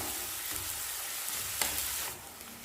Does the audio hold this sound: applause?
no